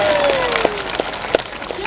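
An audience at an Islamic religious lecture claps in a few scattered, sparse bursts while a voice keeps speaking over them.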